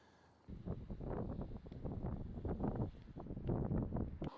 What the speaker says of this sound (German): Die besondere Herausforderung wird der Wind sein, der wieder stark zugenommen hat.